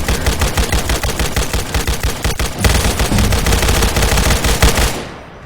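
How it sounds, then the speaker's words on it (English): Gunfire in Fallout New Vegas: loud, close rapid-fire bursts of automatic shots in a fast steady rhythm, continuing for about five seconds before cutting off abruptly, with no talking. "Shooting guns."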